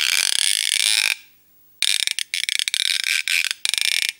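A cup roarer made from a plastic canister, with a rosined loop rubbed on a grooved dowel, gives a sustained rasping squeal, then a pause, then a run of stuttering, ratchet-like creaking pulses.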